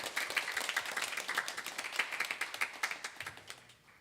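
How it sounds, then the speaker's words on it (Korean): Church worshippers clap in encouragement for the choir, a moderate applause of distinct individual claps in a fairly regular patter that thins and fades toward the end. "우리 찬양대를 위해서 격려의 박수하겠습니다"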